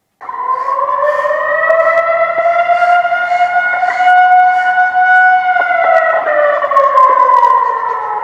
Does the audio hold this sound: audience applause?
no